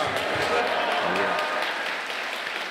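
A church congregation at a New Year fasting revival service claps together to welcome the pastor to the pulpit. The applause is a dense, steady wash from many hands, filling the room and easing slightly toward the end, with voices mixed underneath.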